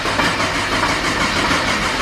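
A car engine cranking on an old, weak battery: a steady, labored starter churning with a continuous rough drone, close by, without catching or starting.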